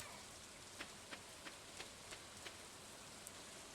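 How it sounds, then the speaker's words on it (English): Rain in the farming video game Stardew Valley, a steady, quiet hiss with soft, evenly spaced droplet ticks running throughout. "So glad it's raining today."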